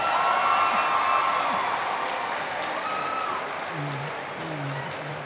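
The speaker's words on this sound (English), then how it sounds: "Please give me a round of applause." An audience at a church or religious gathering applauds and cheers, a broad wash of clapping with scattered whoops and voices, gradually easing off toward the end.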